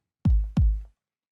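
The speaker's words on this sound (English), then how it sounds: "So this is the kick." Two deep, punchy kick drum hits in quick succession, each with a sharp attack and booming low tail, isolated against silence.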